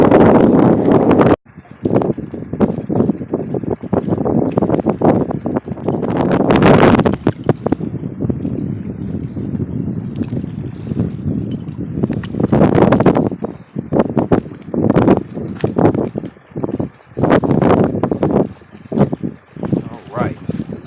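Gusty wind buffets the microphone over choppy water on a stormy day of crappie fishing from a boat, loud and roaring in waves, with someone talking over it.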